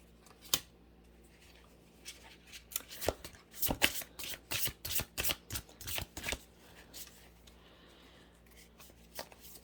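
Tarot cards being shuffled by hand: a few soft riffles at first, then a quick run of crisp, evenly spaced flicks and slaps in the middle, fading to faint handling, close and fairly quiet with no talk.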